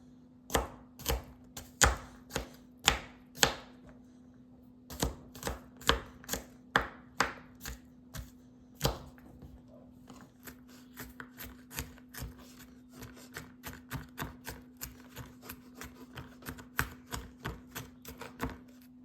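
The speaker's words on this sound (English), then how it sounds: "Now we can start chopping." A knife taps rapidly and steadily chopping garlic on a cutting board, dozens of crisp chops in a quick rhythm, close and clear with no talking.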